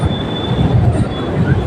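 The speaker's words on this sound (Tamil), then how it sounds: "ட்ரெயின் வந்து வேளச்சேரி ரயில்வே ஸ்டேஷனில் என்ட்ரி ஆகிட்டு இருக்கு" An MRTS suburban train rolls into Velachery railway station, a steady loud rumble of wheels on track with a faint high metallic whine running over it.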